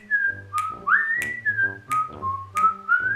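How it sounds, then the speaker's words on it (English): A person whistles a short, lilting tune nearby, clear bright notes rising and falling in quick phrases with no talking. "all of a sudden, I hear the guy standing outside my door start to whistle."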